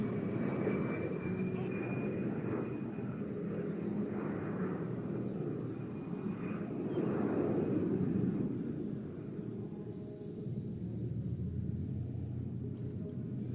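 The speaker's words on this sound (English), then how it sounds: "sending the A-10 straight into the vertical, showcasing the Hog's power maneuverability in all attitudes of flight" An A-10 jet pulls into a vertical climb during an airshow demo at the 2024 Tampa Bay airfest, giving a steady, loud, broadband engine roar and rumble that fills the whole stretch with only slight swells.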